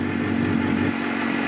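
A Suzuki GSX-R 750 motorcycle engine idles steadily while warming up, a close, even mechanical hum with a faint clatter and no throttle blips.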